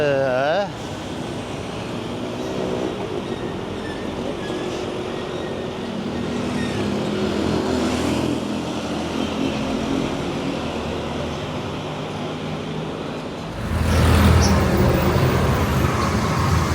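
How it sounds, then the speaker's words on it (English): Heavy traffic roars along a busy main road in a provincial town, a dense continuous wash of passing cars and engines that swells louder near the end. "The traffic is crazy, it's noisy, but it's to be expected."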